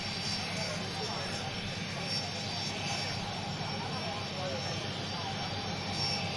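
Aircraft engines carrying a head of state hum and whine steadily at an airport in Man as the plane comes to a stop, a constant broad roar with a voice talking over it.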